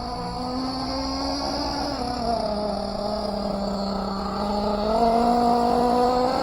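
Team Associated MGT RC monster truck driving at under half throttle, a whining electric motor drone that rises and falls gently, steady and fairly close, with no talk.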